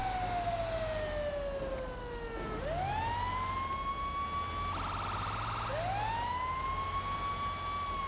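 Police car siren in the video game GTA V, a loud wailing tone that sweeps down and back up, briefly switching to a different yelp pattern before resuming the wail, with engine rumble beneath.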